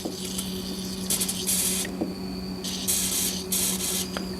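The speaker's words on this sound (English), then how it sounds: "Or you can just spray the actual shaft and the WD or the penetrating oil will find its way down to that bushing." WD-40 penetrating oil sprayed from an aerosol can onto the steering shaft of a John Deere D110 lawn tractor, several short hissing bursts close to the microphone with pauses between, over a low steady hum.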